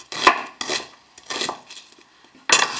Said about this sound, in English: that's the onion chopped